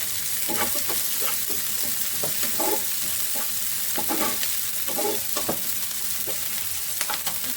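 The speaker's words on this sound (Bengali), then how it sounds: "পেঁয়াজ রসুন কাঁচামরিচ দিয়ে তেলে দিচ্ছি একদম ভুনা ভুনা ভাজা ভাজা হবে এখন" Onion, garlic and green chilies fry in hot oil with a steady, close sizzle, broken by repeated scraping stirs of a spoon against the pan.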